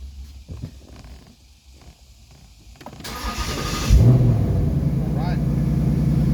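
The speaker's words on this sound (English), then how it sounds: "The car starts, there's no errors, no messages." Car engine starting after a battery replacement: quiet rumbling and a voice at first, then the starter cranks and the engine catches with a rising rev before settling into a steady, close idle.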